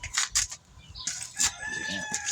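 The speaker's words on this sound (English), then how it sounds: "How do you know they're barn swallows?" Barn swallows calling from a nest near a car's engine bay, with bright, high chirps and short trilling bursts close by, a few pauses between calls and a faint low rumble underneath.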